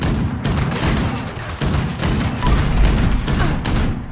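Plasma grenades going off in Fallout 76, a rapid fusillade of heavy booms and thuds that follow each other almost without pause, loud and close across the whole stretch.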